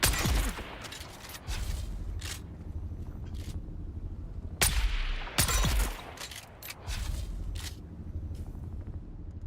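Gunfire in the video game Dune Awakening, several sharp loud shots with booming tails, two heavy bursts in the middle and scattered single cracks over a steady background rumble, no voices.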